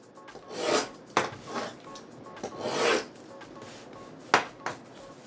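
A utility knife slices through a cotton work glove in a few rasping strokes, close and fairly quiet, with sharp short scrapes and handling sounds between cuts.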